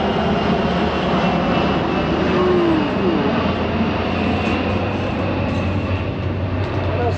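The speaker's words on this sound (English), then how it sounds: "small jet going by." A steady, broad engine roar of a small jet aircraft flying by, loud and continuous throughout, with no one talking.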